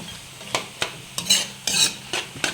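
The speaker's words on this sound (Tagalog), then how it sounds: "Haluin natin mga lods." Egg sizzling in a frying pan as a utensil stirs it, sharp scraping strokes against the pan at an irregular pace over a steady frying hiss, no voices.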